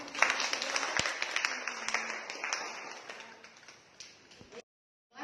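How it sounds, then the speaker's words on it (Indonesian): Students in a classroom applaud with a dense patter of claps that is fairly soft and gradually thins out before cutting off abruptly. "Tepuk tangan."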